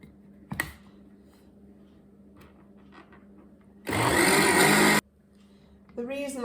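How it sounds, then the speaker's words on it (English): A countertop blender whirs loudly for about a second while blending hot soup, starting and stopping abruptly between quiet kitchen sounds and faint clatter. "The reason I'm using the blender rather than a stick blender is that you get a smoother soup doing it this way."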